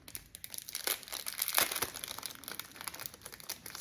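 A small plastic bag holding buttons and trims is crinkled open up close, with bursts of crackly rustling and a sharper tearing crunch midway, quiet throughout and free of speech.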